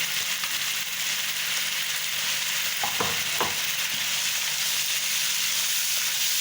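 Masala seasoned with turmeric and salt fries in a pan for aloo methi salan, a steady bright sizzle with a couple of brief stirring scrapes midway.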